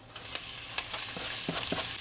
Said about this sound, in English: So it's starting to sear really well.